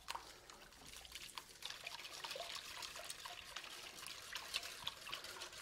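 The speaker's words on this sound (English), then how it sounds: "I can whisk and pour at the same time here" Milk is poured into crepe batter while being whisked, a soft, close, continuous liquid trickle with light sloshing, heard quietly and alone.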